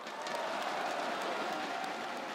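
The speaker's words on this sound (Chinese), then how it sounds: "听听你们热烈的掌声" Audience at an indoor badminton exhibition match claps in a dense, steady wash of applause, moderately distant and continuous, with no talk over it.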